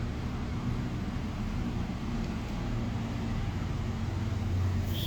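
Busy road outside a room, giving a continuous low rumble of passing traffic that stays steady and fairly loud throughout, with no talk.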